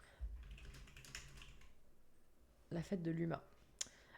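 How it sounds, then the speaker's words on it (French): Light clicks of typing on a computer keyboard, a quick scattered run of keystrokes heard faintly under a person talking nearby in French. "ASMR clavier."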